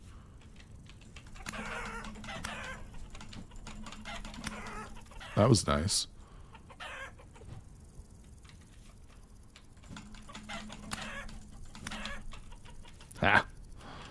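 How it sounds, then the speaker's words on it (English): A rooster clucks in the video game Vintage Story, with two short loud bursts over quiet ambient noise and faint chatter, and a person speaks briefly. "Ooh, another rooster."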